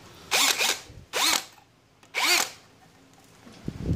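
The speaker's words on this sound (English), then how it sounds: "So let's try drill through this, I do believe, about 5 millimeter thick steel angle bar or angle iron." An Aneerpower cordless brushless hammer drill bores into a 5 mm thick steel angle bar in three short, loud, close bursts of whining, rising motor noise separated by brief pauses.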